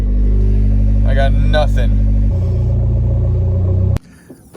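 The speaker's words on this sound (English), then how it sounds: "Just the way that the RPMs are going up and down" A shop car's engine runs with a steady low drone that drops in pitch partway through, then cuts off abruptly near the end; a suspected faulty MAF or MAP sensor makes the revs wander, and someone speaks briefly over it.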